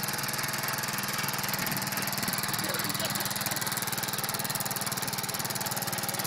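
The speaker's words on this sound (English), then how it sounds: "Look at my honey on a Wheelhorse tractor." A small Wheel Horse garden tractor engine runs steadily nearby with a constant rumbling drone, never letting up.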